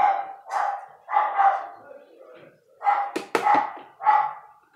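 A small puppy barks indoors in short bursts at another dog passing outside, sharp yips coming close and loud in several spaced clusters, with a brief quieter gap midway.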